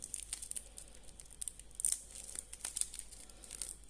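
Protective plastic film peeled off a stainless Jubilee watch bracelet, close crinkling and crackling with sharp tearing bursts in an uneven rhythm, no talking.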